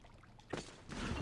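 Splash of a character plunging into water in Assassin's Creed 2, a broad burst of noise at about half a second followed by a louder, sustained splashing wash to the end.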